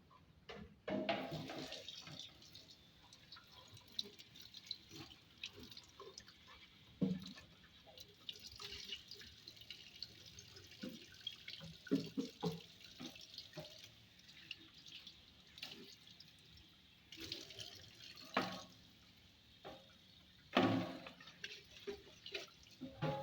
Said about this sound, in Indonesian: setelah disikat, kalian bisa bilas menggunakan air mengalir.